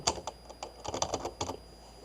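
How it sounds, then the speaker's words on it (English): Quick clicking keystrokes on a computer keyboard, close and crisp, come in an uneven run of taps with short gaps and no talking. "I've just typed that in there."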